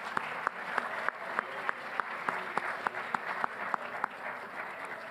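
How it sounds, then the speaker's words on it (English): An audience at a winter sports varsity awards event applauds the coaches, steady moderate clapping with a few sharper individual claps standing out at regular intervals. "So let's give the coaches a round of applause"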